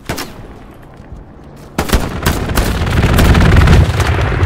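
Aircraft strafe with rapid gunfire in the Hell Let Loose combat game, set in Stalingrad: a few sharp shots first, then a dense, rolling burst of fire that grows louder and heavier toward the end.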